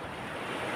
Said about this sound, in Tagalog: Yan ay alon na ordinary na lang pagkaamihan dito sa area namin.